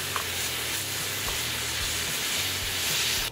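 Vegetables sizzling as they cook down in a pan for sausage stuffed acorn squash, a steady, even hiss of frying that stays constant throughout with no talking.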